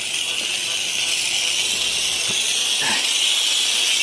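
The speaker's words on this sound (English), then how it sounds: "This is a good steamer, guys." A steamer used during pumpkin carving gives a loud, continuous steam hiss that runs unbroken from start to finish, with faint handling noises beneath it.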